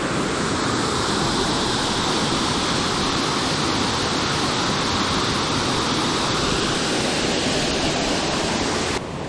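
Steady, loud rushing water of a fast-flowing creek close by fills the whole stretch, a dense broadband roar, with no voices.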